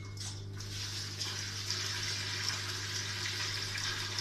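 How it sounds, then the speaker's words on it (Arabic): A newly installed washing machine drain pump runs and moves water, giving a steady low hum under a continuous hissing rush of flowing water, fairly quiet and uninterrupted throughout. "دلوقتي بنجرب الترومبة بعد ما ركبناها، نشوف هتوصل معانا ولا لأ"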